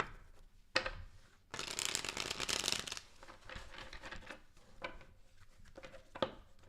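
A deck of tarot cards is shuffled up close, with a long riffling rush in the middle and softer card slaps before and after, and no voices.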